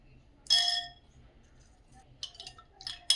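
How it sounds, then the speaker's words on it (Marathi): Ice cubes clink against a glass of sherbet in a few bright, sharp taps, one loud clatter first, then several lighter clicks, over quiet background. "आता या सरबतामध्ये बर्फाचे तुकडे घालून घेऊयात आपण"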